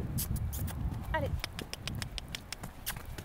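Horse hooves thud in a quick, steady rhythm as a rider is coached through canter departures during a riding lesson with a newly started horse, with a coach's voice talking over the footfalls.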